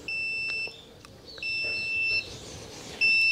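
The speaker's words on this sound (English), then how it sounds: "Hear that beep?" Three clear electronic beeps, each steady and high-pitched, about half a second to a second long, separated by short pauses over a quiet background, while checking idle speed wiring on a Toyota Altezza with individual throttle bodies.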